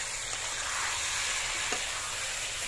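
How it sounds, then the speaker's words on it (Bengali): Roti frying in a pan over a clay stove, a steady soft sizzle and hiss running evenly throughout with no talking. "এইদিকে আমি রুটি ভাজছি"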